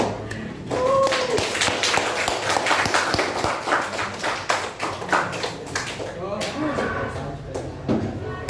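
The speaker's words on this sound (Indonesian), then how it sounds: "kita berikan aplaus dulu untuk semuanya" A classroom of students gives a round of applause, with steady overlapping clapping and some voices mixed in, fairly close and loud, the clapping dipping briefly near the end.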